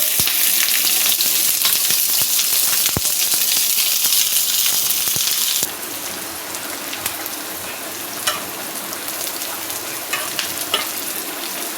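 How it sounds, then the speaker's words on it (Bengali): Chopped onion and garlic sizzle steadily in hot oil in a pan, a dense continuous hiss that softens partway through, with faint clinks of stirring. "এবার দিয়ে দেবো পেঁয়াজ রসুন।"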